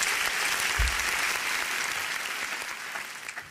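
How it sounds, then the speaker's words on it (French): Audience at a French-language gospel evening applauds steadily for about three seconds, a dense wash of clapping that fades slightly toward the end. "Applaudissez-vous, alors"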